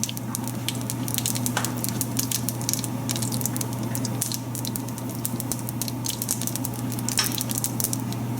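Asafoetida (hing) dropped into hot oil for masala rice with vegetables, giving a steady dense sizzle with crackling spatters throughout, close and loud, no talking.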